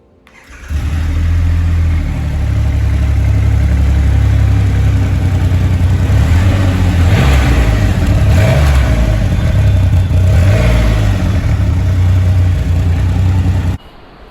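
A Hayabusa superbike engine starts up and settles into a loud, throaty idle, with several sharp revs of the exhaust in the middle, recorded close by.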